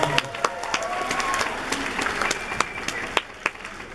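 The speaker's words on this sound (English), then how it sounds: "Why don't we just give a round of applause?" Scattered applause from a small audience, individual claps standing out sharply over a softer layer of clapping, with faint voices underneath.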